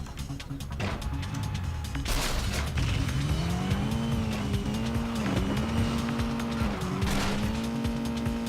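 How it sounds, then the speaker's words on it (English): A car in the Crashday: Redline Edition video game boosts down a hill, its engine whining steadily upward in pitch, loud and continuous, with a few sharp knocks at the start. "So it's just about taking a car, boosting it down the hill,"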